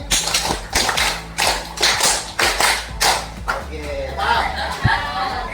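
A group of people claps in rhythm during a classroom clapping game, sharp hand claps in quick bursts with talk and chatter around them.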